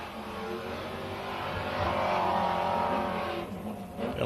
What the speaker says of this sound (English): Gotta love the sound of these trucks.